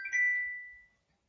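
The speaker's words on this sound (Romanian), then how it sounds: "Așa se întâmplă când îți sună telefonul live." A phone lets out a single bright electronic chime that rings clearly and then fades away over about a second, alone in a quiet yoga room.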